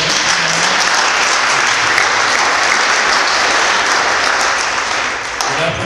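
Loud, dense applause from a high school auditorium audience at a federal byelection candidates' debate, a continuous wash of many clapping hands that holds steady and eases slightly near the end.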